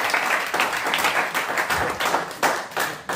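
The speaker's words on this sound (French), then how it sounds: "On applaudit fort." A youth gathering audience claps loudly and unevenly, with individual hand claps standing out in a dense burst of applause.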